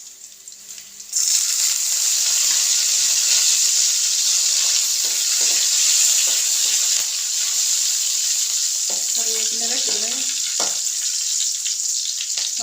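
Curry leaves hit hot oil in a pan of masala for beef brain fry and burst into a loud, continuous sizzle that holds steady, with faint stirring knocks and bubbling crackles near the end.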